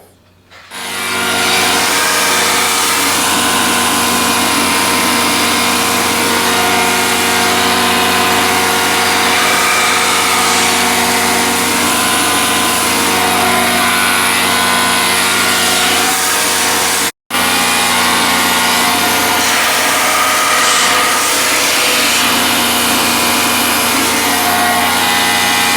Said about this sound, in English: gonna go ahead and put this through the sander, try to clean that up, level it off a little bit.